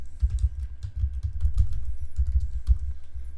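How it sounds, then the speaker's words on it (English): Steady typing on a computer keyboard, a fast run of close, clicky keystrokes in irregular bursts with no talking. "just click on anywhere and keep typing"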